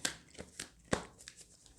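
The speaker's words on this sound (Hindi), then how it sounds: "ये क्यों इतने कार्ड्स गिर रहे हैं" Tarot cards are shuffled by hand and spill from the deck, giving a few soft, close slaps and rustles with one sharper flick near the middle, quiet overall.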